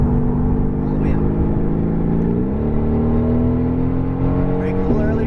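A Mercedes AMG GT R at full throttle on a racing track, its engine roaring loud and close with a steadily rising pitch and a brief shift dip partway through.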